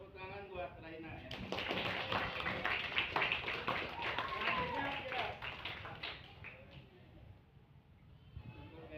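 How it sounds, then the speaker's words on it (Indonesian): Classroom of students clapping for a classmate, a burst of scattered handclaps that builds then fades, with children's voices chattering underneath. "Tepuk tangan buat Raina ya."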